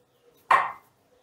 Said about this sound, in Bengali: 4টে লেচি কেটে নিলাম